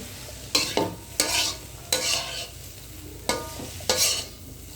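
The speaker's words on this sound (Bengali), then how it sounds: "আমাদের ভাজি হয়ে গেছে প্রায়।" Vegetable bhaji frying in a pan, with a steady sizzle under five or six scraping stirs of a spatula at a fairly regular pace, close and clear without talk.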